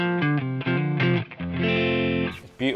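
An electric guitar played through a Rat distortion pedal plays short chords and then a sustained note, heavily distorted and buzzy, loud and close with no talking.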